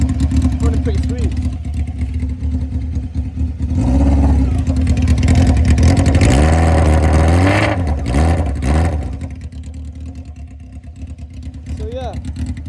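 A pocket rocket minibike engine running on straight pipes revs loudly and close up, rising in pitch through several sharp throttle blips around the middle before settling back to a steady idle, with a person talking over it.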